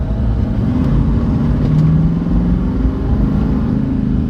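A tuned Nissan Titan XD pickup drives along, its engine producing a loud, steady low rumble throughout, heard from close by with no voices.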